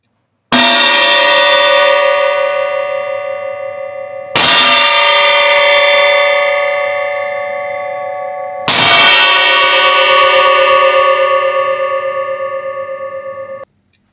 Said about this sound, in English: The membrane of the steel plate vibrates to larger amplitude and the sound is louder.